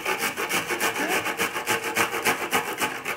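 Jalapeños scraped over a kitchen grater in quick, even back-and-forth strokes, a close and steady rasping with no talking.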